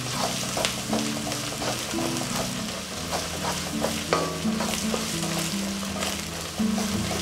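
Vegetables for Hakka noodles crackle and hiss on high flame as they are stir-fried. A steady, close sizzle runs throughout, broken by repeated scraping and tossing clatter from a spatula against the pan, with no voices.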